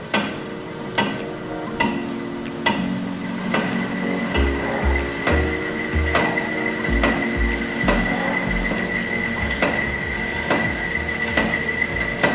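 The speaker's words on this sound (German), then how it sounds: "die Bandsäge arbeitet jetzt halbautomatisch durch das Material hindurch" A semi-automatic band saw cuts through aluminium, giving a steady whine with a low running hum. Sharp ticking knocks repeat roughly every second throughout the cut.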